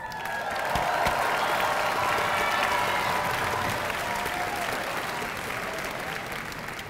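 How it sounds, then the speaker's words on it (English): A crowd gives sustained, dense applause at a high school graduation ceremony, clapping steady and full for several seconds before slowly thinning toward the end. "We would ask that you hold your applause"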